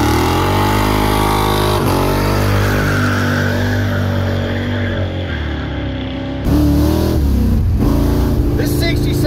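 A 1967 Chevrolet Nova's engine revs loud and close, a deep rumbling drone that climbs and swells, drops, then surges again sharply near the end.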